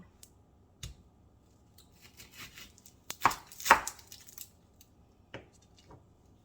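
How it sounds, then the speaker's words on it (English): A knife chops onion on a board in sparse, irregular strikes, with a quick cluster of louder cuts in the middle, no talking. "I'm going to be chopping up some, start off with the onion."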